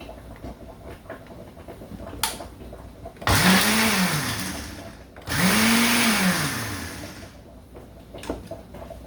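An electric blender whirs loudly in two bursts, its motor pitch rising then falling each time, with quiet pauses and light clatter between.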